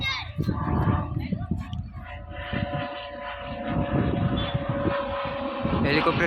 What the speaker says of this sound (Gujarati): મિત્રો તમે જોઈ શકો છો હેલિકોપ્ટર આવ્યું છે